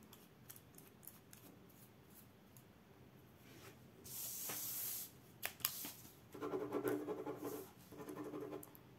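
A Zebra 901 ballpoint pen writes on paper with soft, scratchy strokes in short irregular bursts, and a longer stretch of steady scribbling near the middle and end, close and quiet.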